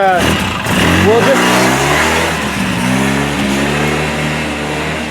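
A Polaris RZR 800 side-by-side engine, running off a temporary fuel tank, starts and revs close by with a rising and falling mid-pitched drone, then settles into a steady loud run.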